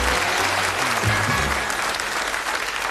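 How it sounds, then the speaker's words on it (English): Studio audience applause on a British darts game show, steady loud clapping throughout with a few voices and cheers mixed in. "Ladies and gentlemen, give them a round of applause"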